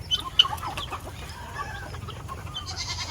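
Backyard chickens clucking and murmuring close by as they peck at feed thrown on the rain-soaked ground, with a couple of sharper squawks early on.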